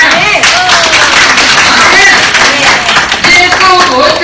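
Loud, dense applause from a church congregation fills the whole clip, with steady clapping and a few voices mixed in.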